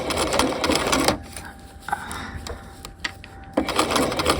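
A sewing machine stitching around jacket canvas on a half-scale jacket, its fast needle chatter running close and loud, pausing for a couple of seconds in the middle and then starting again.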